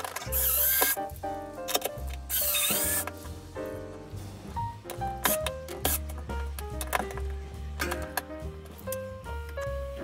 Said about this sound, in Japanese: あとは付属のネジでこのコンセントをスゴ枠くんに取り付ければ、